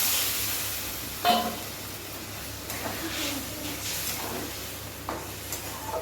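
Water pours into spiced curry frying in a pan, giving a soft hiss and sizzle with a sharp burst at the start and lighter sizzling bursts afterward, close and moderately quiet.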